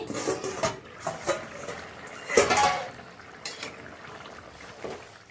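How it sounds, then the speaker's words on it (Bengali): A lid comes off a pot of snakehead fish curry with taro, bringing a sharp metallic clank among softer clinks and scrapes of cookware over a low bubbling simmer. "এবার ঢাকনিটা তুলে নি।"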